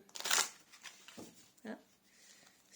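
Oracle cards handled and shuffled during a tarot reading, giving a few soft, close rustling and slapping bursts separated by brief pauses, with one louder flurry at the start.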